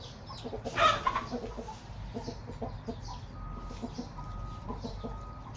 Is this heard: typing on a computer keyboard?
no